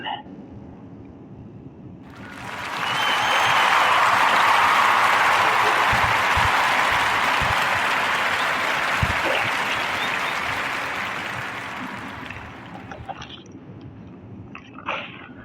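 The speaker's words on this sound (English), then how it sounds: "So clap it up for that Queen Allison." Applause from a crowd swells after a short pause, holds as a dense, steady wash of clapping for several seconds, then tapers off into quiet with a few stray sounds.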